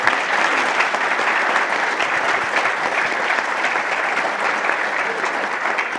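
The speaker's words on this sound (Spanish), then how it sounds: "por favor, démosle un aplauso" Sustained applause from a panel audience, dense steady clapping from many hands at even loudness throughout, with no voices over it.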